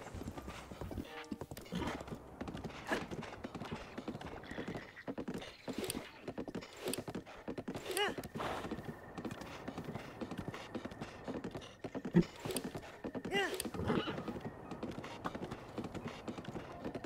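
Horse hooves clip-clop in a rhythmic, steady gallop in Zelda Breath of the Wild, mixed with game effects and a brief neigh, moderately quiet throughout.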